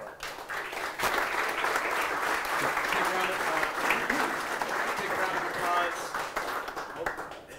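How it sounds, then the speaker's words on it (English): A crowd at a brewery business talk event in Los Angeles gives a sustained round of applause, with voices faintly audible beneath the clapping. "Thanks for the big round of applause for these guys up here in Golden Road for hosting tonight."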